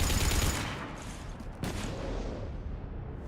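Dense, continuous gunfire in the video game Mass Effect 3 Legendary Edition, a loud rattling barrage that swells briefly midway and then tapers off, with no talking.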